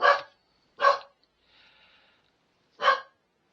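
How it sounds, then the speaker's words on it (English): A dog barks three times, sharp single woofs spaced apart, with a soft breathy snuffle between the second and third; fairly close in a quiet room. "He always manages to start barking in the middle of recording a video."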